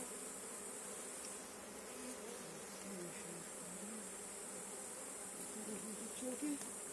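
Honeybees swarming around a hive during an attack by robber bees, a dense continuous buzz of many insects close by, faint and steady with individual bees droning past.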